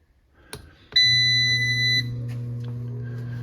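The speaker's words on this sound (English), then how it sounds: "You hear that beep, it's just that you know that it is on." Comfort Built HP41 space heater switching on with a single loud, sustained electronic beep lasting about a second. A low steady hum of the running heater follows, preceded by a couple of small clicks.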